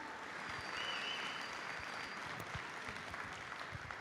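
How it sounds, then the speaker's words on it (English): A large crowd claps in a big arena at a FIRST robotics district event, a soft, distant, even roar of applause that holds steady without any voices over it. "give me a round of applause for all the people in the blue shirts"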